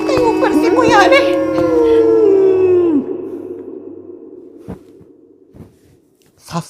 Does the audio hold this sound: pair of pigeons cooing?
no